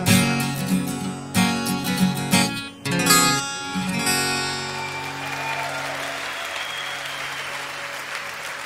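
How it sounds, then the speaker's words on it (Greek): Audience applause rising as music with loud chords ends, then continuing alone as a steady wash of clapping from a room full of people. "Βλέπω κι απόψε εδώ μέσα κάτι χέρια χειροκροτάνε"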